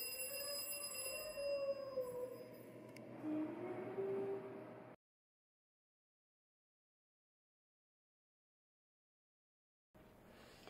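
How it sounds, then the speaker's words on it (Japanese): A ringing alarm clock tone sounds for about five seconds, then cuts off into silence before a faint return at the end. "目覚まし時計の音がすると"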